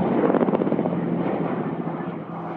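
Black Shark combat helicopter in flight, a steady loud rotor and engine drone with rapid blade chop that holds throughout and eases slightly near the end, with no voices.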